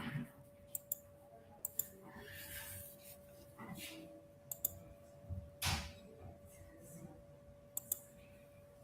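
Mouse clicks while working in 3D modeling software: a dozen or so sharp, faint, irregularly spaced clicks over a quiet room hum, with some soft rustling between them.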